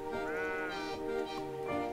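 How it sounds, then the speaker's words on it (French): Sheep bleat in the video game Old Man's Journey, several wavering, nasal calls in quick succession, close and fairly loud, with no talk over them. "Premier défi du jeu, les moutons nous bloquent la route."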